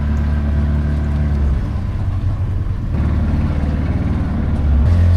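A boat engine drones steadily and loudly up close, its low rumble shifting in pitch as the craft slows and maneuvers arriving at Hideaway Island, Vanuatu.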